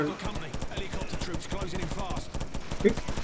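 Rapid bursts of muffled silenced M4 rifle gunfire crackle continuously with game effects in Call of Duty 4: Modern Warfare, while a voice talks over the shooting throughout.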